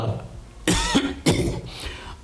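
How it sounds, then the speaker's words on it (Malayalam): A man on stage in a Malayalam school-reunion drama coughs twice in quick, harsh, close bursts over faint room noise. "ചുമയ്ക്ക് മാത്രം ഇപ്പോഴും ഒരു കുറവുമില്ല"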